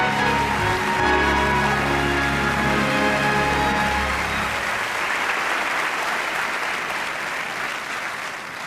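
A theater audience at the Oscars applauds steadily and loudly, a dense wash of clapping with music underneath at first, then the clapping continues alone and slowly tapers.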